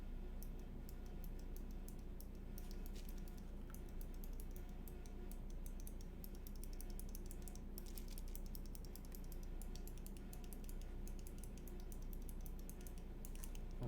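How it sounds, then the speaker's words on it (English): Fingers type on a keyboard with clicky mechanical switches, producing a continuous stream of fast, crisp clicks over a low hum of room noise. "Okay, so these are clicky switches."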